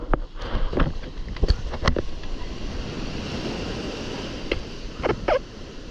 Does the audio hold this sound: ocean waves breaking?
yes